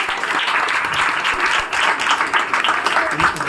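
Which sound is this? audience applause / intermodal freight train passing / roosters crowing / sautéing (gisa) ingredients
audience applause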